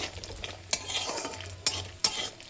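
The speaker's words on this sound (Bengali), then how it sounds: "একদম হালকা আছে বড়িগুলোকে কিন্তু ভেজে নেব" Bori (lentil dumplings) frying in hot oil in a pan give a steady soft sizzle, broken by three sharp clicks of a stirring utensil against the pan.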